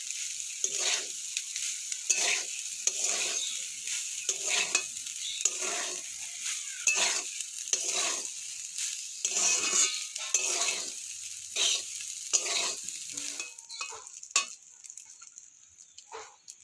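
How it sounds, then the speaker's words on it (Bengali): Vegetables and egg fry in a pan while a utensil stirs them, with repeated scraping strokes in a steady rhythm over a constant close sizzle. "আমাদের ডিম দিয়েও সবজিটা পুরো ভাজা ভাজা হয়ে গেছে, এবার আমি জল ঝরানো পান্তা ভাতটা দিয়ে দেবো।"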